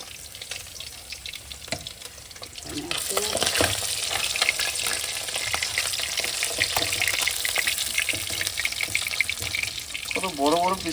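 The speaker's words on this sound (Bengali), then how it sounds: "মাছটা ভেজে দিই এবার।" Large belly pieces of catla fish drop into hot oil and break into a loud, steady sizzle and crackle that carries on close by, with brief voices and kitchen clatter at the start and end.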